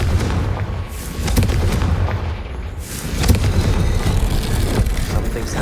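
A Confringo fire spell goes off in Hogwarts Legacy, a dense, loud rumbling blast with booming low-end impacts that roll on for several seconds, heavy and continuous in a game fight.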